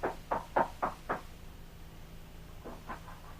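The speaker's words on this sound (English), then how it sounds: "We hear him as he raps on the door of Jim's home." Knocking on a house door as a radio drama sound effect for a Lone Ranger episode: five firm raps in a quick run, a pause, then three softer knocks, fairly close and alone.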